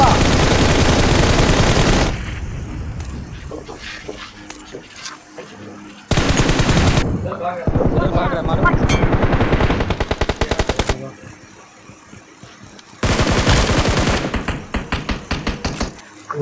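Rapid automatic gunfire in the mobile shooter BGMI comes in three loud sustained sprays of full-auto bursts, separated by quieter stretches with scattered single shots and faint game ambience.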